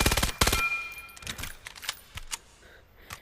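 Gunfire from a weapon in the VR shooter Vail: a quick rapid burst of shots at the start, then scattered sharper cracks and clicks spread out over the rest, with no speech.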